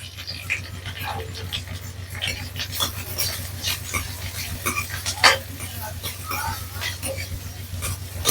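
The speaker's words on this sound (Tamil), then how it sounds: "லைட்டா இந்த எண்ணெயில வதங்கட்டும்" Green chillies sauté lightly in hot oil for an Andhra-style chilli chicken curry, with a low crackling sizzle and soft scraping stirs close by, plus a few brief clinks.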